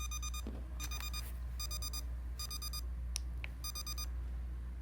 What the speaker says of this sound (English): I also wish I could change the alarm chime to something a little bit more natural because it does the little dee-dee-dee-dee